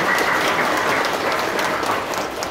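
A church congregation applauds during a feast-day Mass honoring the parish priests, a dense, steady round of clapping that fills the whole stretch at high volume without pause.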